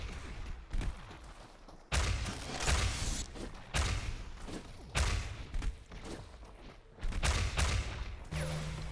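Rocket launches and explosions in ShootMania during a competitive match, a series of repeated thumping blasts at irregular intervals, fairly loud and close, with faint commentary underneath.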